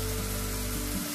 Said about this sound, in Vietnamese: mình chiên giòn nó lên để cho nó thơm